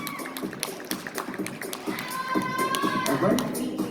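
Scattered audience applause at a fitness competition, sharp claps spread through the room under an announcer's voice and a murmuring crowd.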